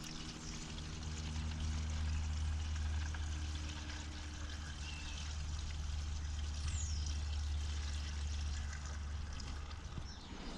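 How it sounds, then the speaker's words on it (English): Liquid pours steadily from a big bottle into a funnel at a car, a continuous close splashing rush that runs unbroken throughout with no talking. "If you're pouring from a big bottle like this, it's best to pour it on its side so it doesn't glug."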